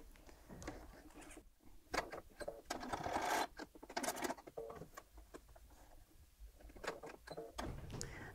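A sewing machine runs in short stitching bursts, sewing down the fabric triangles of a bound buttonhole, with a close rapid mechanical chatter that rises and eases with quiet background noise.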